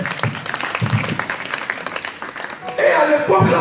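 A church congregation at a wedding blessing breaks into applause, scattered clapping and voices at first that swell into fuller, louder clapping near the end, with speech over it.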